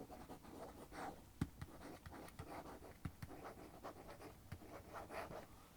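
A pen or pencil scratches across paper while an engineering drawing of point projections is lettered. The strokes are soft, close and quiet, with rhythmic short scrapes and occasional light taps, and no voice is heard.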